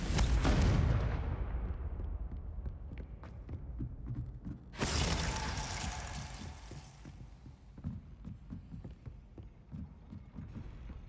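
A Confringo fire spell explodes in Hogwarts Legacy, two loud blasts a few seconds apart, each a sharp broadband burst that decays into a crackling, rumbling tail.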